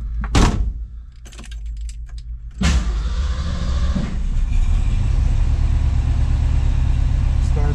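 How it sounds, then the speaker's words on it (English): A 1970 Ford Mustang Boss 302 with a 4-speed Hurst shifter cranks and fires in neutral, starting after a few seconds and settling into a loud, steady rumbling idle close by, with earlier clicks and a brief whir before the start. "Make sure we're in neutral and start the vehicle."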